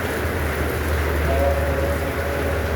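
A steady wash of heavy rain falls in Oman, dense and continuous at close range, with no voices over it.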